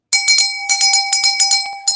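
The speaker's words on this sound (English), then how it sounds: "this is a great vintage brass bell" A vintage brass hand bell rings loudly and close, swung in rapid repeated strokes with bright sustained metallic tones, about a dozen clangs in quick succession.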